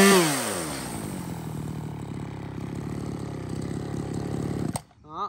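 A 39cc Shindaiwa 395 chainsaw starts with a rising rev, then runs at a steady loud idle-to-mid throttle buzz for several seconds before cutting off abruptly near the end.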